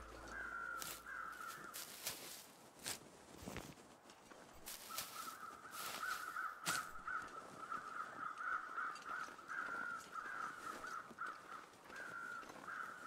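Crows gather around a deer carcass in the survival video game Interloper, cawing repeatedly in harsh, rhythmic bursts at moderate distance. Sharp clicks and thuds cut in between the calls, and faint footsteps sound underneath.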